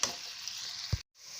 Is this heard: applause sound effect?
no